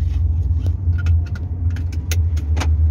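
A car creeps along slowly in second gear during a driving lesson, its engine a low steady hum beneath cabin rattles and small clicks and scrapes.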